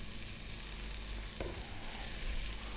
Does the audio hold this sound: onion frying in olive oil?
yes